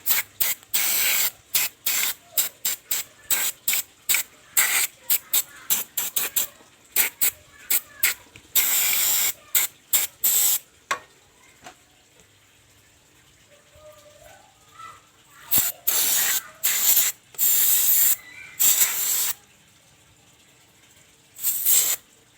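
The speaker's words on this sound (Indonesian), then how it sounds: "Saya semprot cleaner dulu biar bersih." Repeated short bursts of aerosol cleaner spray onto a Honda Vario Techno engine part, some quick and clustered, others held longer, with pauses between groups, close and loud.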